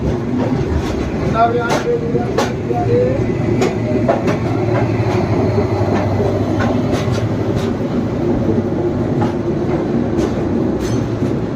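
An express train departing Chennai Egmore rumbles steadily past at close range with rhythmic clicking of wheels over rail joints and occasional sharp metallic ticks.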